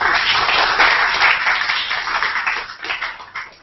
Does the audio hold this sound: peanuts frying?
no